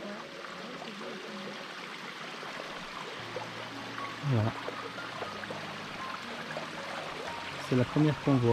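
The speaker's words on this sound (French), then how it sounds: "Vous voyez, première petite cascade vraiment légère." Small, light waterfall trickling, heard as a steady, soft wash of running water, with people talking over it throughout.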